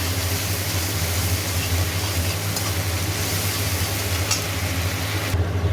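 Tomato paste frying in hot oil with salt and spices, a steady dense sizzle with a low hum underneath, continuous and fairly close.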